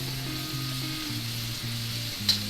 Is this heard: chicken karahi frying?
yes